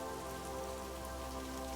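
Soft steady rain with pattering raindrops fills the background at low volume, continuous and even, with a faint tonal hum beneath and no voices.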